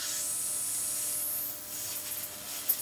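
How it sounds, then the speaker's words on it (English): A steady, bright hiss of high-voltage corona discharge from a 150kV voltage multiplier, continuous and fairly loud, with a faint crackle near the end. "You can hear some corona."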